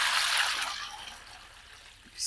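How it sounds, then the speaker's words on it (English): Water for sourdough dough, several kilograms of it, pours steadily into a mixing bowl with a broad rushing splash that slowly softens, then swells again at the end. "I'm going to put all the water,"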